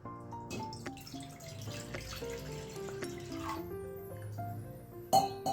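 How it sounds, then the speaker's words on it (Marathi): Running water splashes steadily into a metal kadhai set on the heat, close and continuous, ending with a brief louder clank. "त्यामध्ये आपण थोडेसे पाणी घालून घेऊयात"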